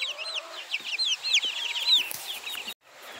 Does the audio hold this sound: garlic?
no